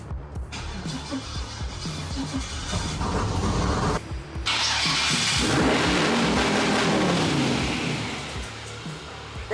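A budget twin-turbo LS V8 cranks over for the first time, a loud continuous whirring churn that breaks briefly and then swells into a steady roaring rush before easing slightly.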